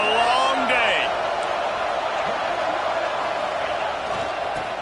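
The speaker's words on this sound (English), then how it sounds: "This crowd, full throat, splitting the eardrums" A stadium crowd roars at a college football game, a loud, sustained wash of massed cheering that swells at the start and holds steady throughout, with a voice briefly audible over the din early on.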